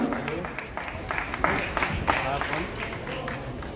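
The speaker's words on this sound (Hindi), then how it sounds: "आप सभी से मेरी रिक्वेस्ट है तालियां बजती रहनी चाहिए" A crowd at a stage event in Lucknow claps during a bouquet ceremony, a busy, uneven spatter of applause running under someone speaking over a loud sound system.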